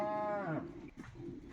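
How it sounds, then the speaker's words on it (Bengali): A high-yielding dairy cow on a farm lets out a single clear moo with rich harmonic tone, lasting about half a second, followed by quiet background noise. "এই গরুটি অনেক বেশি দুধের গরু"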